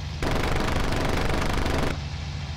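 Aircraft machine guns fire one loud, unbroken burst of about 1.7 seconds in the IL-2 Cliffs of Dover combat flight game, over a steady engine drone that continues after the firing stops.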